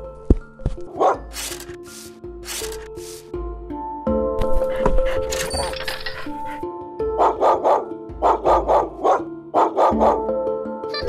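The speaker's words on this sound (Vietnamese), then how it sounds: "Con vện đáng ghét lại sủa bậy rồi" An animated dog in a Vietnamese cartoon fairy tale barks in repeated sharp bursts, mixed with music and sound effects, with a rapid run of barks near the end.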